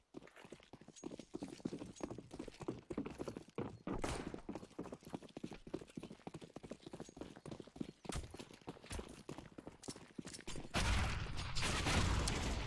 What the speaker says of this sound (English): Whoa, massive grenades coming out there from Big5